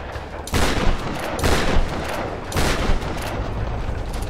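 Shotgun blasts in the video game Tomb Raider Definitive Edition, three loud booming shots spaced about a second apart, each with a sharp broadband crack and a short decaying tail.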